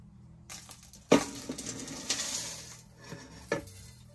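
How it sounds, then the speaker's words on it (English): A metal ash pan full of hot ash is handled up close, with two sharp metallic clanks against a rustle of shifting ash and scraping. "So I've got my ash pan here."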